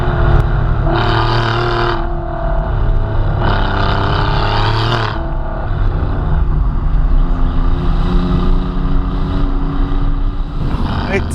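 A turbocharged Alfa Romeo Giulia Quadrifoglio with carbon roof, bonnet and prop shaft accelerates hard through the gears, its engine note rising in two strong surges with brief dips between shifts, then settling into a steady, loud drone.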